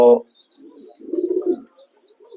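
An Indian Fantail pigeon kept for sale gives low, soft cooing phrases close by, with thin chirps from other birds in the background.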